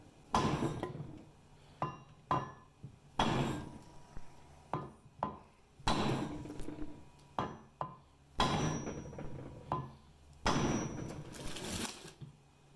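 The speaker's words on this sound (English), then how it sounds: "just hammer it" Sharp hammer blows strike metal in irregular bursts while driving a steering assembly part into place on a Kubota G4200 tractor, some single and some in quick pairs, close and fairly loud, with quiet pauses between.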